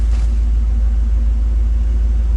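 A 1990 GMC truck with a swapped-in 350 engine and a Cummins exhaust tip idles with a loud, deep, steady rumble, heard up close and alone.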